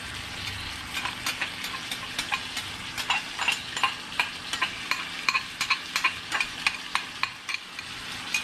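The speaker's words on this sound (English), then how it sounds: "We'll go ahead and add our onions." Onions fry with browned, seasoned steak in a hot pan for Philly cheesesteak filling, a steady sizzle punctuated by a regular run of sharp scraping strokes as a utensil stirs against the pan, close and with no talk.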